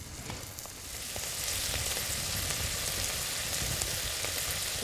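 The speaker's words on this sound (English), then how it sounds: "So we'll just leave the stir fry in the butter there for a little bit" Shellfish including razor clams and prawns frying in butter as a stir fry on a beach, giving a steady broadband sizzle that swells after the first second and then holds even, with faint crackles and no voices.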